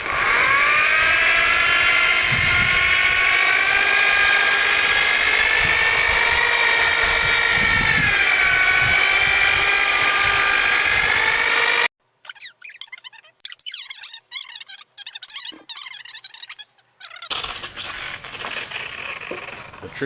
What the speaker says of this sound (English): always have that buffing wheel running off of the edge, not onto it